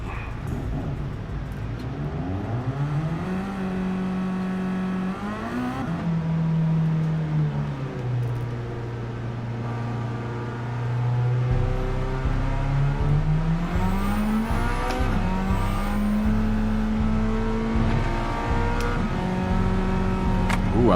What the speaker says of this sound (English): I like what this car sounds like.